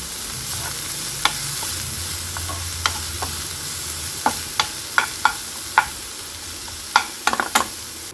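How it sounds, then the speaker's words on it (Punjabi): Onions frying in a pan give a soft continuous sizzle, broken by scattered sharp clicks and scrapes of stirring. "ਹੁਣ ਲੈ ਲਿਆ ਜੀ ਪਿਆਜ਼ ਥੋੜਾ ਜਿਹਾ ਫਰਾਈ ਕਰਾਂਗੇ ਆਪਾਂ"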